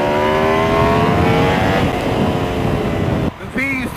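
The engine of a 2019 Aprilia RSV4 1100 Factory superbike roars loud and close under riding, its pitch falling as it eases off, and a rider's voice cuts in briefly near the end.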